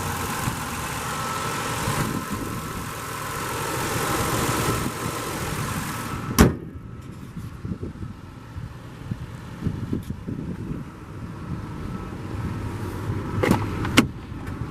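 A 1999 Infiniti i30 with a 3-liter 24-valve dual overhead cam V6, 129,000 miles, idles steadily close by, with a couple of sharp clicks and a brief electric window whine over the engine hum.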